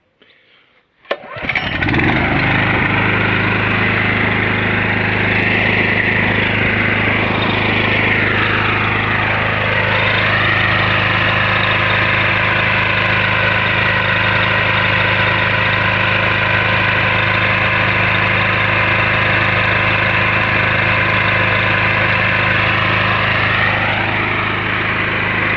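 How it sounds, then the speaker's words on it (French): A KOHLER SDMO 6000 HX home generator engine starts after a quiet moment, revving up and then settling into a loud, steady running drone with slight shifts in pitch, heard close and alone. "We will start the engine and we will scrutinize the vibration aspect."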